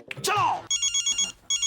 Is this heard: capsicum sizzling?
no